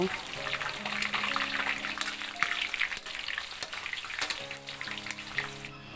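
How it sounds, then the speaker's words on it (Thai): Coconut beetles deep-fried a second time in hot oil in a pan over medium heat, a steady close sizzle and bubbling with occasional stirring clinks throughout. "ให้น้ำมันร้อนแล้วใส่ตัวด้วงที่เราทอดรอบแรกลงไปค่ะ พอเขาลอยตัวขึ้นมาเราก็คนเขา"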